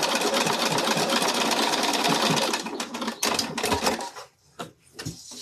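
Domestic sewing machine stitching fabric, a rapid dense whirring run that breaks into short stop-start bursts and brief pauses toward the end.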